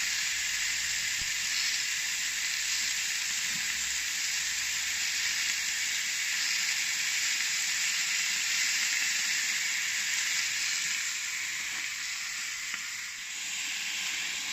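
Rabbit fillets sear in a Lidl cast iron skillet, giving a steady, loud, close sizzle and hiss that runs without a break the whole way, with no voices over it.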